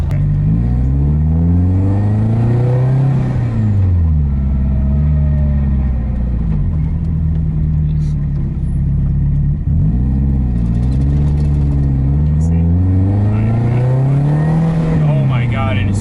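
A tuned Subaru engine revs hard from inside the car, its loud drone repeatedly climbing in pitch and dropping back across several acceleration pulls, steady and close throughout.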